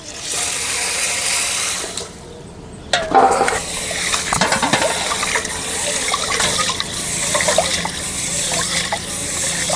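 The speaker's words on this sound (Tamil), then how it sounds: "தண்ணி ஊற்றி சுத்தம் பண்ணி எடுத்துக்கலாம்." Water pours and splashes steadily into a container of horse gram being rinsed, with a brief lull before louder trickling and sloshing resumes, close by.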